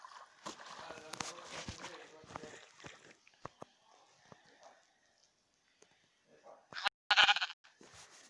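Sheep bleating in the Minecraft video game, a short burst of bleats near the end after mostly quiet stretches, with a person talking earlier in the clip.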